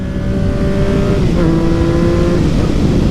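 Modified Yamaha MT-09 motorcycle engine revving close by, loud and sustained, pitch climbing and settling through several throttle blips with no talking.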